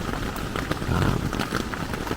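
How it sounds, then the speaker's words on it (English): Heavy rain drumming on a tarp shelter during a wild storm at night, a dense, constant patter with irregular louder gusts and splashes close by. "You probably can hear it's rain."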